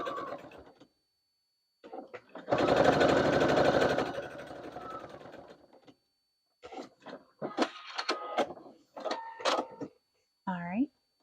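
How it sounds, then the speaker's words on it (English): A home sewing machine stitches down a seam on a fabric project bag for quilting, running in a steady mechanical burst of about one and a half seconds, then stopping, with short spoken phrases before and after. "And then I'm going to finish stitching this down."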